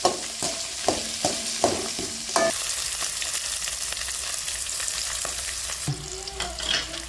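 A goat head sizzles in a pan with curry leaves, a steady frying hiss broken by a few sharp scrapes and stirs near the start.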